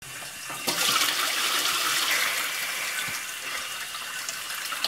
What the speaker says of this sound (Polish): to się napełni spłuczka wodą brudną